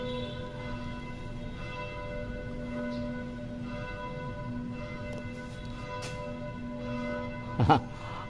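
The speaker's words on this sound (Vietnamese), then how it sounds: "Tiếng chuông nhà thờ vang lên" Church bell ringing out at noon over Cholon, Saigon, heard from a rooftop garden, steady resonant tolls sustained across the whole stretch at moderate distance, with a brief louder knock near the end.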